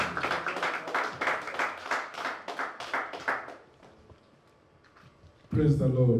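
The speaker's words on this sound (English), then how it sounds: "A round of applause for him." Audience claps briefly after a call to welcome a reverend at a church gathering, a short burst of hand claps that fades into quiet before a loud voice breaks in.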